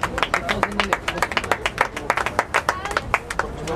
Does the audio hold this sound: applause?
yes